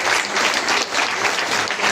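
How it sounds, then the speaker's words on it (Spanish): A crowd at a political rally in San Pablo del Monte applauds for the president, a dense, loud wash of clapping that holds steady throughout. "Un aplauso a nuestra presidenta"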